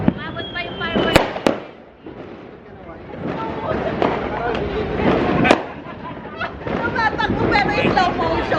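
New Year's fireworks for 2026 crackle and pop through a steady wash of celebration noise, with several sharp bangs standing out and people talking underneath.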